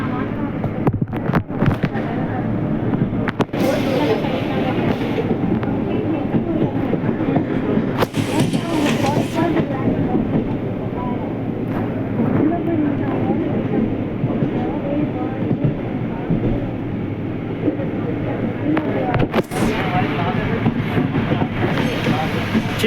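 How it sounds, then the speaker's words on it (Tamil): An express train runs on the Beach to Fort suburban line, heard from on board as a continuous, loud rumble with rhythmic clickety-clack and sharp metallic bangs throughout. "ரொம்ப அருமையான ரயில் ட்ரெயின் ஜர்னி இது."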